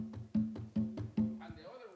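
A single plena pandero hand drum struck in an even, repeating pattern of four resonant hits up close, followed by a faint trailing noise.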